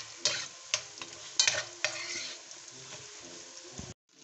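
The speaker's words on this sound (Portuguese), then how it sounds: "Agora, ó, ela já tá refogando. Eu tô dando uma misturadinha pra poder ela desfarelar." Browning food sizzling in a pan while a spoon stirs and breaks it up, repeated scraping strokes and taps over a steady frying hiss that cuts off at the end.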